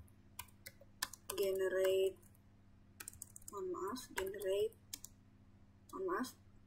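Commands are typed on a computer keyboard while configuring a network switch in global configuration mode, with bursts of clicky keystrokes and pauses between them, under low steady background hum.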